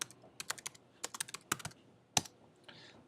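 Typing on a computer keyboard to enter a command into Stata statistics software: a quick run of crisp close key clicks in uneven bursts, then a brief pause and a few final taps, with no voices.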